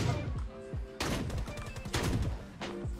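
Rapid shotgun blasts and bursts of gunfire in the video game Rules of Survival, several sharp loud shots in quick clusters with bright decaying tails, no talk over them.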